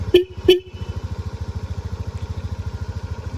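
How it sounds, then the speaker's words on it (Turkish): Two short beeps from a scooter horn sound close up, followed by the steady, pulsing putter of the idling engine of the automatic (gearless) scooter. "Bir altındaki korna."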